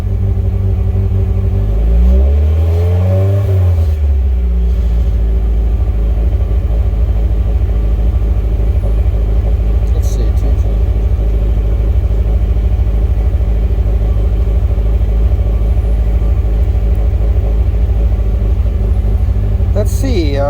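A Mazda Miata engine on SpeedyEFI, in a $300 budget car, warms up at a loud, steady idle close by, with one brief rev near the start and people talking over it.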